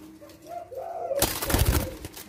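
A Leopard Silver turtledove coos softly in a low tone, close by, and then a loud broadband noise cuts in over the last second.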